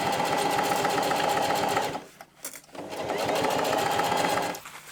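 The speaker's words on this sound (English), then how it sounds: "then you're gonna sew all the way around here and leave this bit open again." A sewing machine stitching around the panel of a bum bag, its fast, steady needle rattle running loud and close, pausing briefly midway before resuming.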